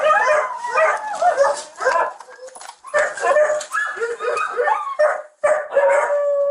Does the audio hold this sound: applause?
no